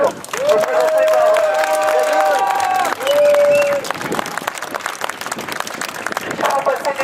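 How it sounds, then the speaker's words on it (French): A crowd at an outdoor protest rally at the Trocadéro applauds and cheers with dense clapping, while whistles or horn tones sound over it in the first seconds, and the clapping thins and turns patchy toward the end. "je vous demande d'applaudir"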